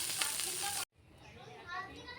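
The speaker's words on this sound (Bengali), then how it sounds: "কড়াইতে তেল নুন হলুদ দিয়ে চিংড়ি মাছের মাথাগুলো ভালোভাবে ভেজে নেব।" Shrimp heads fry with salt and turmeric in oil in a wok. A bright, crackling sizzle cuts off abruptly, then quieter sizzling slowly builds back up.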